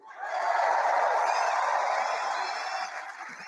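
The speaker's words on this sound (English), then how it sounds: "Listen to the crowd cheering for these far left ideas." A political rally crowd cheers in a broad, sustained roar that swells quickly, holds steady for a few seconds, then begins to fade, heard alone without speech.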